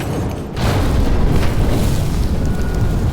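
In the video game The Drifter, an improvised firebomb made from an alcohol-soaked rag in a bottle bursts with a sudden loud boom, then gives way to a sustained, roaring rush of flame.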